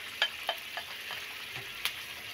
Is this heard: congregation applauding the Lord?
no